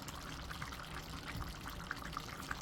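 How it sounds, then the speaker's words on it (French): Liquid is poured into a simmering turkey and vegetable curry, giving a steady, soft splashing trickle with a few small bubbling pops, close by and without any talk. "vous mouillez un peu si nécessaire, puisque ça a absorbé pendant la cuisson. Vous rajoutez un peu de liquide."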